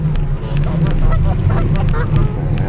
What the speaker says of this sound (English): Now I gotta make it through these geese without them trying to bite me.